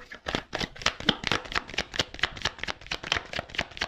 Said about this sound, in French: Décidément, j'ai les cartes qui tombent.